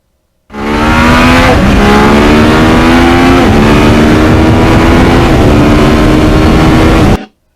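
A 2009 Yamaha R1 crossplane sport motorcycle roars loudly and steadily while riding on an open road, its pitch climbing through gears with brief dips at each shift before cutting off abruptly.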